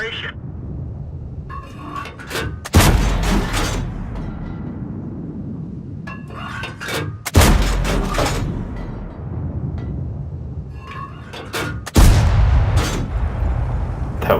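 Three heavy tank cannon shots from a T-43 in a tank video game boom at regular intervals, each a loud close blast with a rumbling tail, while a voice talks between the shots.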